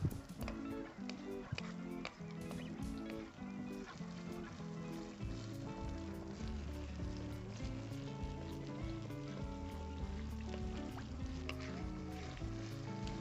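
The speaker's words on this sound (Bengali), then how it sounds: "এবার সুন্দর করে কষিয়ে নেব আদা রসুনের কাঁচা গন্ধটা যাওয়া পর্যন্ত।" Crushed ginger, garlic and green chili sauté in a pan for doi chicken, a quiet, continuous sizzle with occasional soft pops over a faint tonal background.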